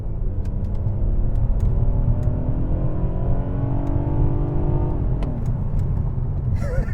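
A BMW 428i turbocharged engine in sport mode accelerates hard from inside the car, a loud, steady rising drone with a brief dip as a gear changes around the five-second mark, then climbs again.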